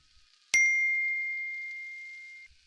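A single bright electronic ding rings out once and fades slowly over about two seconds, clean and isolated in near silence.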